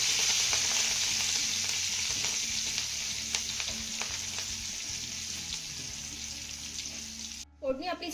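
A tempering of mustard seeds, cumin and asafoetida crackles and sizzles steadily in hot oil, with scattered pops and stirring, close and fairly loud, cutting off abruptly near the end.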